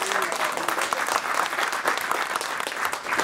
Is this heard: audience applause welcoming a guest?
yes